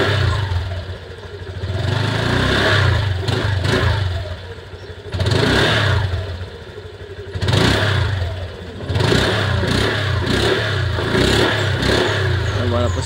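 Honda Click scooter engine revving in repeated bursts, rising and falling roughly every two to three seconds, with the exhaust sputtering and clattering between revs, close and loud, with someone speaking at times.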